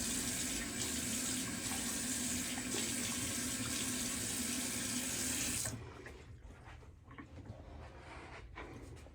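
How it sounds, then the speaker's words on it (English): Water runs steadily from a bathroom tap into a sink while shaving lather is rinsed off, a loud continuous splashing rush that cuts off abruptly partway through, leaving quiet handling noises. "so I'm going to go ahead and wash it off."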